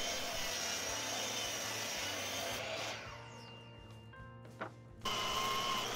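Power sander lightly smoothing slices of driftwood cut into pumpkin shapes, a steady broadband grinding hiss for about three seconds that winds down, a short quieter gap with a small knock, then the sanding starts again loudly.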